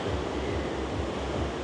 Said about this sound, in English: just look at that, look at them waves